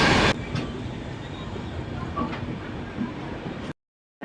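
Tamil Nadu Sampark Kranti superfast express running at speed near Warangal, heard from on board as a steady loud rumble of wheels on rails that fills the whole span before cutting out abruptly near the end.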